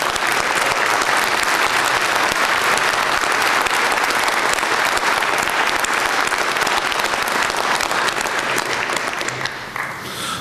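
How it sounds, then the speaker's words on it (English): Loud, dense applause from a town meeting audience in Scituate, honoring Ms. Holt, holding steady and close for about ten seconds before tapering slightly at the end. "I was wondering if we could give Ms. Holt a round of applause."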